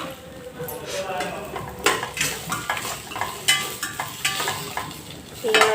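Grated coconut frying in a pan, a steady sizzle under repeated scraping and clinks of a spoon stirring against the pan, close and moderately loud.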